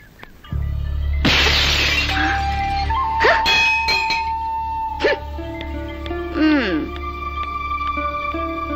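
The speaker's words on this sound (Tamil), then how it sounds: "கண்ணாடி எப்படி உடைச்சுன்னு கேட்டா அதான் உடைச்சு காமிச்சிட்டு போறா" A glass mirror is smashed in a sudden loud shatter during a Tamil film scene, followed by ringing tones and music with voices.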